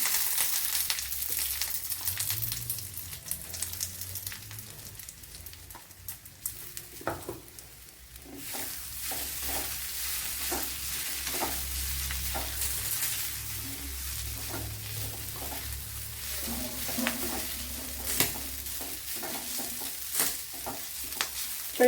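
Ground coconut chammanthi fries and is stirred in a hot pan, a steady sizzle with repeated scraping stirs of the spoon, close and fairly quiet, with no talking.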